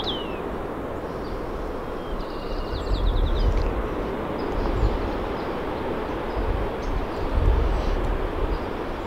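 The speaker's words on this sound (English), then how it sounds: "You could hear the ocean in the background." Ocean surf at Land's End in San Francisco, a steady broadband roar of waves with gentle swells in loudness, heard outdoors with no talking and a few faint high chirps over the wash.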